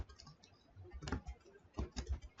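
Keys clack on a computer keyboard as code is typed, a close, quiet run of uneven taps in short bursts with brief pauses between them.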